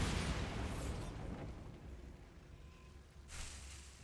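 Bombarda blasting spell in Hogwarts Legacy, a muffled booming burst at the start that rumbles and fades, followed by a second softer swell near the end, with no talk.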